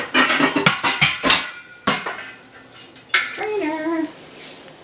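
Pots, pans and cutlery clatter and clank in a series of loud, irregular knocks as someone rummages through a kitchen for a strainer, followed by a brief voice.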